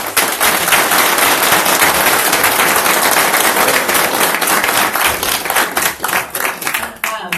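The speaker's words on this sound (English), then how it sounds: "So may we give them a big round of applause." Sustained audience applause for students at a school district meeting, a dense, loud wash of many hands clapping that holds steady for several seconds before thinning out with a few scattered claps at the end.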